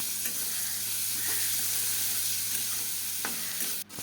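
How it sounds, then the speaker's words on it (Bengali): Onions frying in hot oil for a home-style potol chingri curry, a steady close sizzle with occasional scrapes of stirring, ending in a sharp clack of the spatula. "তো এবার আমি দিয়ে দিলাম পেঁয়াজটাকে আমি হালকা লালচে লালচে করে"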